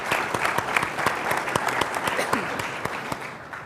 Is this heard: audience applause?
yes